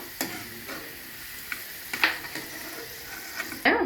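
Raisins fry in ghee alongside dry fruits for double ka meetha, a soft sizzle under light spoon taps and scrapes, with a louder clatter at the end.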